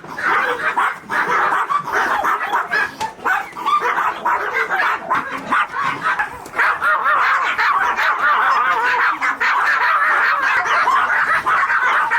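Several chihuahuas bark and yap continuously indoors in a room in Bangkok, a busy, overlapping chorus of small-dog barking that stays loud throughout.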